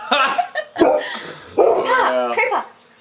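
A dog at a brewery gives several short sharp barks and yips close by, broken up by people talking and laughing.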